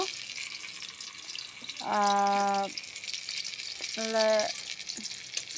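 Shrimp and bottle gourd leaf fritters fry in hot oil, giving a continuous soft sizzling hiss, broken twice by brief tonal bursts.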